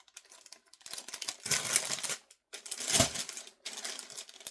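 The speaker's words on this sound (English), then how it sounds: "Now this one is in the noisy paper." Noisy paper packaging around a cross stitch kit crinkles and rustles up close in three bursts of handling with short pauses between them, and no one speaks.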